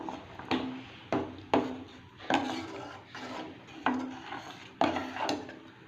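A spoon stirs jackfruit cooked in ghee with added milk in a pan, making repeated scraping and clinking strokes against the metal. The strokes come at an uneven pace, each followed by a soft rasp, with no voices.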